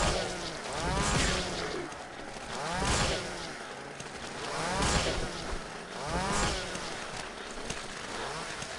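Looping chainsaw from the video game Killing Floor (KF Mod 1.0), a loud revving motor that surges and eases in a steady cycle roughly every two seconds, with no talk over it.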